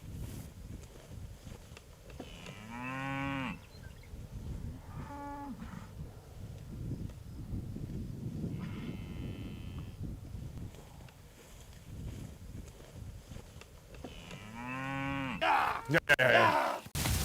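Cattle on a farm pasture moo several times, long low harmonic calls near 2–3.5 s, around 5 s, near 9 s and again at 15–16 s, over steady outdoor background noise with some handling thumps at the end.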